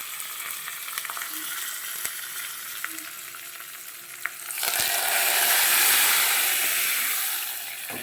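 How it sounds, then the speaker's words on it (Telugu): Curry leaf sprigs dropped into a hot oil tempering for fenugreek-leaf dal, a quiet simmering hiss that suddenly swells into a loud, sustained sizzle up close before easing slightly. "ఇప్పుడు కరివేపాకు రెమ్మల్ని కూడా యాడ్ చేసుకుని మనమైతే తాలింపు పప్పులో అయితే వేసుకోవాలి."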